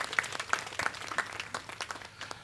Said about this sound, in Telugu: మీ అందరికీ కూడా హృదయపూర్వకంగా మా యొక్క చప్పట్లతో అభినందనలు